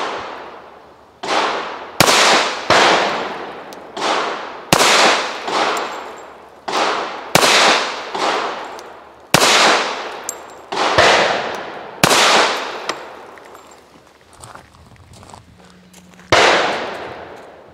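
Shots from a DoubleStar PHD pistol ring out one after another at an uneven pace, about a dozen loud, sharp reports with fading echoes, and no talking.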